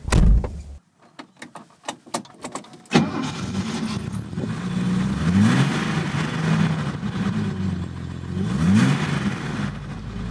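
A 1967 Mercedes 250SL Pagoda starts with a few sharp clicks and a door thud, then its engine settles into a steady, loud run. Two rising revs sweep upward as it accelerates.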